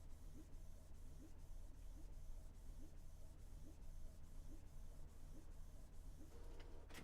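A printer runs with a steady whirring hum and soft rhythmic mechanical pulses roughly every half second, faint and continuous.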